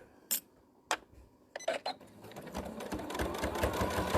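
A sewing machine stitches fabric for a handmade bag: a few isolated clicks first, then a steady, close, rapid mechanical whirr that builds and runs continuously to the end.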